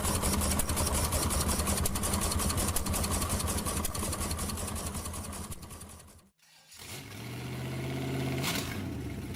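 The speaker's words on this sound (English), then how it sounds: "The Chevrolet 348 Tri-Power, produced from 1958 to 1961, was a high-performance version of the 348 cubic-inch V8 engine." A Chevrolet 348 cubic-inch Tri-Power V8, the high-performance version built from 1958 to 1961, runs with a loud, dense, continuous roar. It cuts out abruptly, then returns to a lower, steadier idle.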